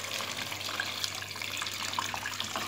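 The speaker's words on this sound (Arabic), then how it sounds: "دوك نمرقو كمية من الماء" Water pours steadily into a cooking pot of fried chicken and chickpeas for Algerian kebab, a soft continuous splashing and trickle throughout, fairly quiet and close.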